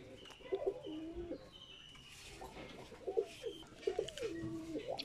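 A high-flyer pigeon coos softly in repeated rolling phrases, with quiet gaps between calls and faint background noise.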